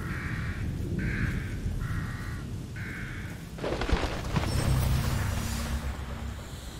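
Crows in The Evil Within give four evenly spaced harsh caws, fairly loud, followed by a deep boom and a rumbling game sound.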